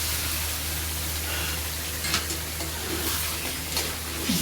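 Mutton curry with curd frying gently in a pan over a low gas flame, giving a steady soft sizzle with occasional louder crackles and stirring scrapes, close and continuous with no talk.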